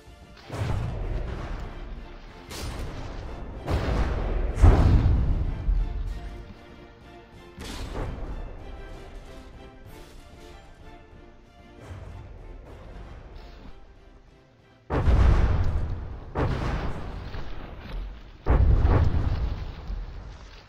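Turret cannon fire and direct hits in a From the Depths battleship tournament, a series of heavy booming blasts and crashing impacts recurring every few seconds, loud and close with rumbling decay between them.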